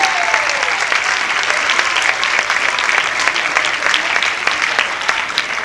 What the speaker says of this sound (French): On les applaudit encore très fort.